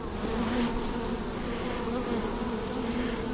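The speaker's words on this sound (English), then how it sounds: "Bees are agitated." A dense swarm of agitated honey bees buzzes steadily nearby during a transfer of nucs into hive splits, a continuous droning hum with no voices.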